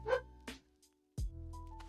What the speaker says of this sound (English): But there's the dogs loud and clear.